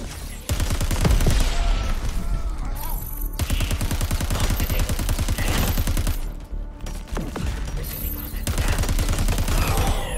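Guardians in Crackdown 3 fire plasma rifles in long rapid bursts of loud, close gunfire, with only brief pauses between volleys.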